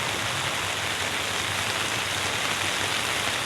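Heavy rain pours down steadily in a dense, even wash of hiss with no break, loud and close throughout.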